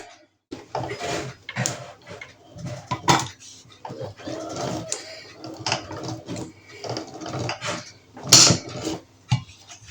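Glass jars of canned corn on the cob are capped and sealed by hand, giving repeated close clinks and metallic clatters of lids and a seaming key, with one sharp bright clank near the end.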